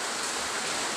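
Heavy rain falls steadily, a dense continuous hiss of downpour filling the whole moment, loud and close with no break and no voices.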